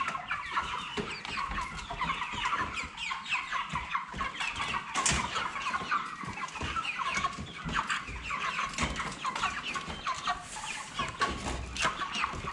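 A flock of heavy broiler chickens clucks continuously inside a poultry shed, a dense, busy chatter of many birds at close range over steady background noise.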